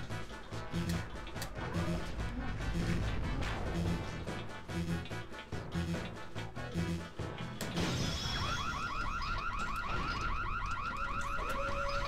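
A repeating alarm horn in the Super Mario Galaxy video game, a steady pulsing tone that takes over after a busy stretch of game music and effects, fairly loud and alone with no talk.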